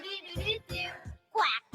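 A person's voice imitates a duck quack during a beginner HIIT workout: a short nasal honk near the end, after a few seconds of breathy vocal sounds.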